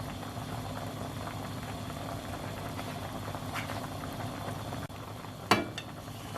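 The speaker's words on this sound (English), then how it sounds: "Keep boiling over high heat until the liquid has reduced" Seafood stock bubbling steadily over high heat in a pan, a soft continuous simmering hiss with a couple of brief clinks near the end, no talking.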